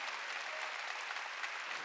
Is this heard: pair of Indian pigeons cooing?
no